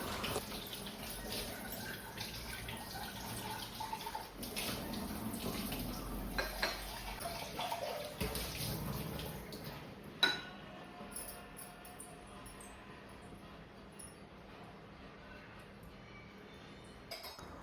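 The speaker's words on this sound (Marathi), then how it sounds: "या काचेच्या सगळ्या भरण्या वगैरे मी धुवून घेतल्या" Glass jars are washed under a running tap, with water splashing and streaming and occasional glass clinks, close by. The flow stops partway and leaves a quieter room.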